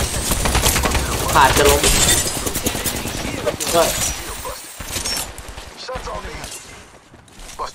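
Rapid gunfire and bursts of shattering in a shooter video game, dense and loud through most of the stretch before thinning out, with players talking over it.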